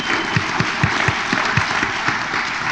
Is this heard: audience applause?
yes